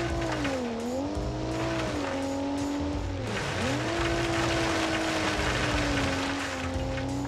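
A carbureted SUV with automatic gearbox in BeamNG revs and drives, its engine tone swooping up and down between gear changes while tires squeal, loud and close with no voices.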